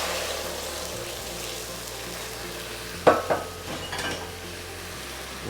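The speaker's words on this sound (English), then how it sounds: "once your sugar is nice and golden brown, put in the sauce" Sauce hitting golden-brown caramelized sugar in a pan for sweet and sour pork, a continuous sizzle with a sharper burst and a few utensil clatters midway.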